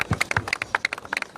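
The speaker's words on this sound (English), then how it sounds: "Round of applause." Scattered hand clapping at a groundbreaking ceremony for a dome, a quick uneven patter of claps from a modest crowd, fairly close and clear.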